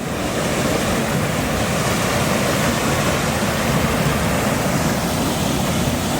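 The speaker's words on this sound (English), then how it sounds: "And there's a waterfall." Aira Force waterfall in the Lake District gives a constant, dense rushing roar of falling water, steady and loud with no break or voices.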